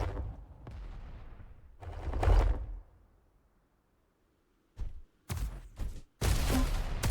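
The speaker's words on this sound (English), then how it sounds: "Takes a rocket jump." Rocket jump and gunfire in the arena shooter Diabotical: a loud sustained blast and rumble early on, a quiet gap, then several sharp bursts of weapon fire in close succession.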